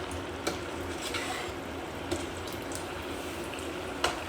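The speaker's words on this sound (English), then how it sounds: "Last few potatoes into the oil." Last few potato pieces deep frying in a pan of hot oil at home for Spanish patatas bravas give a steady, even bubbling hiss, with a few faint clicks popping out above it, near and continuous.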